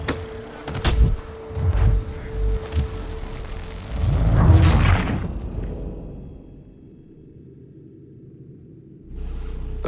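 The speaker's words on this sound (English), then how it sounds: "Those cannons are like to cause trouble." Cannons boom in Assassin's Creed III, with several heavy blasts and rumbling impacts in the first half, fading into a low ambient hush before a steady low rumble returns near the end.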